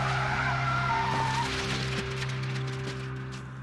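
A car spins out during a driving test course, tires squealing and skidding loudly under a strained engine drone that slowly fades.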